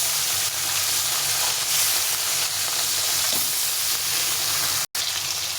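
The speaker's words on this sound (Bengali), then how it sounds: "মাছগুলো ছেড়ে দিলাম, সবকটা মাছ একবারে ভেজে নেব" Bata fish sizzling steadily in very hot oil in a pan, a dense, even crackle and hiss that carries on without pause, broken only by one brief cut near the end, with no talking.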